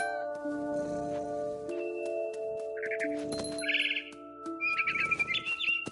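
Short bird chirps in the video game What Remains of Edith Finch, a few bright tweets and trills over sustained musical tones and soft ambient sound.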